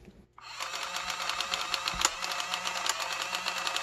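A Casio HR-T8E Plus printing calculator starts its printing mechanism after a brief pause and runs in a rapid, buzzy mechanical whir with regular clicks and one louder clunk partway through, close and alone.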